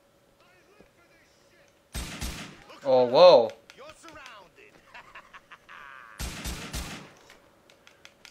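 Gunfire in the video game GTA IV, a few sharp loud bursts of shots separated by quieter game sounds, with someone speaking and exclaiming over them.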